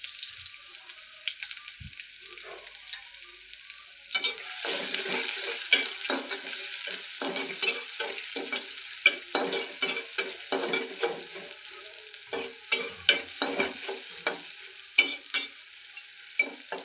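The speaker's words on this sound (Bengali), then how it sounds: "এখন আমি দিয়ে দেব পেঁয়াজ কুচি, দিয়ে দেবো কাঁচামরিচ পালি, দিয়ে দেবো একটু রসুন কুচি," Chopped onion, green chili and garlic go into hot oil in a home kitchen pan, turning a quiet background into steady sizzling with scattered crackles and spatter pops, close and moderately loud, without talk.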